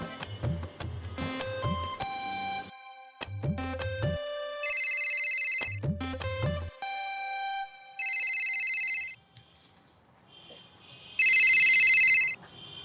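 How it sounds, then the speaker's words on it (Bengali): A mobile phone rings with an incoming call, its electronic ringtone melody repeating in loud bursts separated by brief pauses, near and clear, with no voices. "প্রীতি ফোন করছে আমাকে?"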